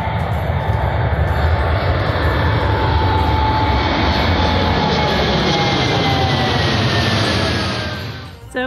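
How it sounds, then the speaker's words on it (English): Etihad Boeing Dreamliner jet airliner taking off at an airport, a loud sustained engine roar with a rising whine that holds steady for several seconds, then fades as the plane climbs away. "So we've just seen the Etihad go. The Dreamliner."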